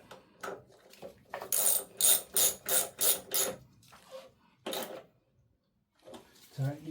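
A ratchet tightens the chain adjuster bolts on a motorcycle, giving a close, quick run of about six sharp clicks, then another short burst, with someone talking before and after.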